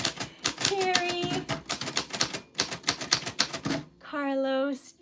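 Rapid clicking of fingers typing names on a keyboard, a dense run of sharp key taps while a voice speaks over and between them.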